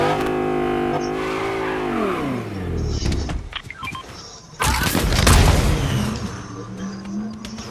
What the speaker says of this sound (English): I just see that truck drive.